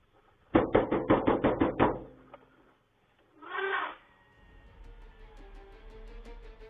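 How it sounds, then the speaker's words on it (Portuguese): Rapid, loud bangs hit a truck door in a quick burst of about eight. A shorter muffled thump follows a moment later. After that a low engine rumble lingers in the background. "Na tentativa de assustá-lo, Norman acelera o motor e bate na porta do veículo."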